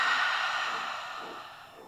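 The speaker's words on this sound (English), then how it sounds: "And then take another inhale." A slow, audible inhale drawn through the throat in pranayama breathing, a soft airy rush that fades gradually over about two seconds.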